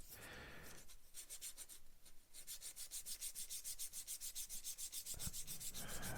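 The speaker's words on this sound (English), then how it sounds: "there's no harm in coming in and cleaning it away with a broad sanding stick" Close, steady rubbing strokes of a broad sanding stick across a small plastic part of a HobbyBoss M1070 and M1000 heavy equipment transporter scale model, a quick rhythmic back-and-forth scratching that speeds up toward the end, with no talk.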